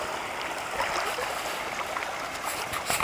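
River water flows steadily through Death Hollow, a continuous broadband rush with light splashing, moderately close and unbroken, with no voices.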